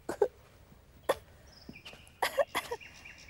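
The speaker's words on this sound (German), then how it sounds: "Lachen sollst du, nicht husten." A child coughs several short times in quick bursts, close and fairly quiet, with a pause between the first coughs and a tighter cluster near the end.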